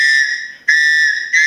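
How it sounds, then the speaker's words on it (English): A shrill survival whistle sounds in three loud, sustained blasts, each cut off briefly before the next, close by with no talking. "you gotta have your Sasquatch rape whistle"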